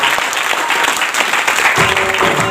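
A crowd at a motivational talk bursts into loud, energetic applause, a dense, continuous roar of clapping heard up close for a couple of seconds.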